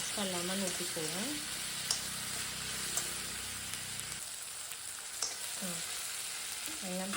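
Onion and tomato fry for a masala sambar in a steady, dense sizzle, with a voice speaking briefly at the start and again near the end.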